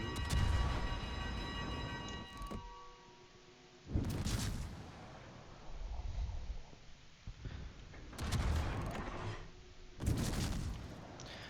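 Naval gun salvos in World of Warships, heavy booming blasts that arrive in several separate bursts with rumbling decay between them, over a steady background hum.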